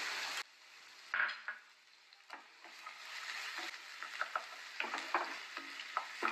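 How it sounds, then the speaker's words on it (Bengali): Finely chopped onion frying in butter and white oil in a pan, with a soft steady sizzle broken by stirring scrapes and light clinks of a utensil against the pan, close and fairly quiet. "এবার আমি এর মধ্যে পেঁয়াজ কুচি দিচ্ছি, ছোট ছোট করে কাটা পেঁয়াজ 1 টেবিল চামচ"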